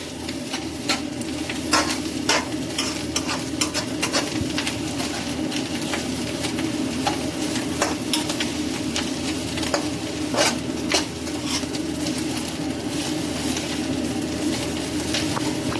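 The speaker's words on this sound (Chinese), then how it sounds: "再炒一会儿吧，多炒一会儿应该没啥事儿" Food stir-fried in a wok sizzles steadily while a spatula scrapes and clinks against the metal in irregular strokes, close and clear, with no talking.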